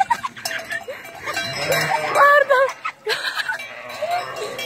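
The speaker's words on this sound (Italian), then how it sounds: "siamo incastrati dalle pecore" Sheep bleat repeatedly at close range during a transhumance flock drive, with a cowbell clanking among livestock and people talking excitedly over the animals.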